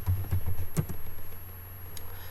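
Typing of Excel code on a computer keyboard, a brief run of soft clicking keystrokes close by with a steady background hum.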